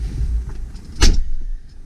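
A door on a 1999 Mercedes G500 long-wheelbase W463 truck shuts with a single close, solid thump about midway, over a low steady rumble of rain and outdoor background.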